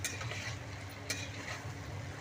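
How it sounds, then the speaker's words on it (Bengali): Ginger garlic paste stirred in a frying pan for a Bengali dish, giving a steady soft sizzle and scraping with a couple of brief sharper clinks, close and continuous with no talk. "এবার আমি পরিমাণ মতন আদা রসুন বাটা দেব, দিয়ে হালকা এটাকে নেড়ে নেব।"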